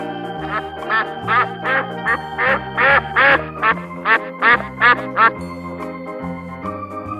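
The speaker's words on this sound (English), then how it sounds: "Duck." A duck quacks in a quick run of about a dozen short, sharp calls, close and clear, with background music carrying on before and after.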